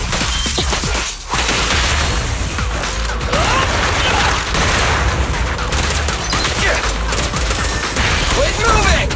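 Rapid gunfire bursts in the video game Zenless Zone Zero, loud and close with clattering shots and impacts layered over game effects, with voices speaking throughout.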